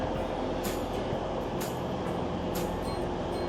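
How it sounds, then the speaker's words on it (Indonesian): Ambience inside Liverpool's railway station: a dense, steady rumble of trains and station noise with faint metallic hisses, no talk in the clip. "Ini suasana di stasiun kereta Liverpool, ya, seperti ini."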